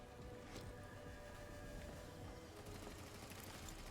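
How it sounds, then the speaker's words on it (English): Faint, continuous gunfire in the Redfall video game, a steady dense rattle of rapid shots heard at a distance under a constant background wash. "I hear shooting, but I don't see shooting."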